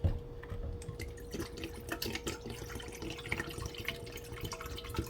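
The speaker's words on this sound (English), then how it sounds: "Bottle of water, a bottle of blue water. Put it in the pot." Water poured from a bottle into a cooking pot for boiling Jamaican ackee and saltfish with boiled food, a steady splashing and trickling with small drips, close by with no talk.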